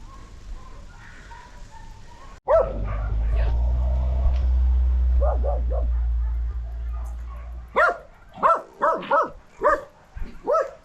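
Dogs at a kennel bark in a quick run of loud, sharp yaps near the end, after a low rumbling stretch with a few softer barks in the middle.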